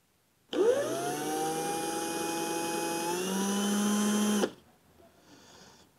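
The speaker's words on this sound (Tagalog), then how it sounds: "i-screw na natin gamit ang cordless na" A cordless drill drives a black screw into a wall light switch plate, whirring steadily for about four seconds with a rising whine at start-up before stopping abruptly, close and alone.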